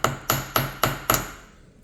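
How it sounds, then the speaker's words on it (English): A chasing hammer strikes jump rings resting on a metal bench block for jewelry work: five sharp, ringing metallic taps at a steady quick pace, close and loud, with the last one decaying away. "So I'll put it on my bench block and take my chasing hammer."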